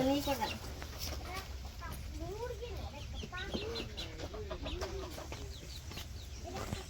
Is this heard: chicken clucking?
yes